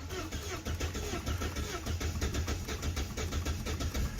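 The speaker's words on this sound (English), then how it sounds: "And let's try to start the car." A first-generation Volvo S40 sedan engine cranks and catches after a fuel pump replacement, giving a steady pulsing chug of a mid-sized motor heard up close with no voices.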